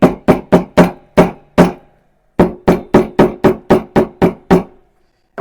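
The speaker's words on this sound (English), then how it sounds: "I'm going to hammer down the edges just to help with that adhesion" A hammer taps down the glued edges of a handmade minimalist leather wallet, two quick runs of about six sharp knocks each with a pause between them, close and loud with no talking.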